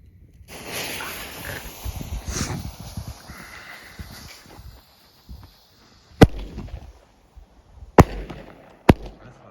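A Striking Rainbow firework cake's shots crackle and hiss, followed by several sharp, loud explosive bangs spaced a second or two apart.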